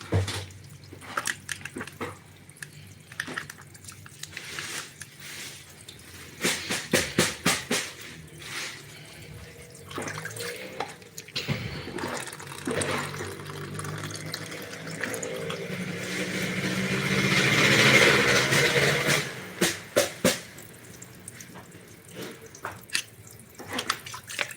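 Water drains out of a demineralizer resin tank, a continuous splashing, gurgling flow that swells toward the middle, with scattered drips and clunks around it.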